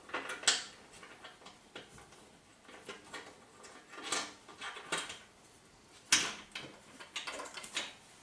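Metal lid being screwed down evenly on a home autoclave for canned duck, with a series of sharp clicks and clanks spaced irregularly over a faint background, no talking.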